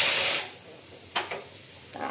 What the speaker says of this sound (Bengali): আলু তো প্রেশার কুকারে সিটি পড়েই যাচ্ছে